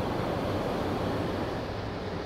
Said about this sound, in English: The water is now flowing into the grit tanks.